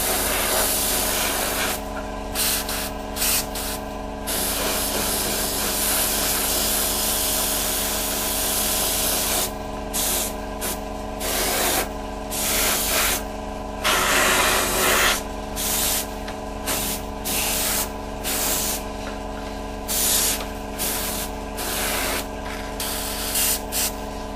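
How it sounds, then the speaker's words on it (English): Airbrush or spray paint hisses onto a Revell 1/48 F-15E Strike Eagle model kit in repeated bursts, with short gaps between passes and a steady mechanical hum underneath. "you could just finish it off spraying, give it some black over those areas again"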